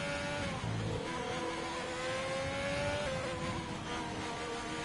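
A Ferrari race car in a racing video game, its engine screaming at high revs through the S-curves at Suzuka, a steady sustained whine with slight pitch dips and rises as it shifts and corners, loud and continuous.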